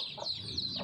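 A fifteen-day-old chick with a swollen, closed eye gives faint, thin peeps in a brief stretch over a soft background hiss.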